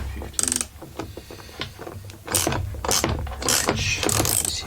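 Flywheel puller working on a Husqvarna 44 chainsaw, with close metallic ratcheting clicks and tool clatter in irregular bursts, growing busier and louder toward the end.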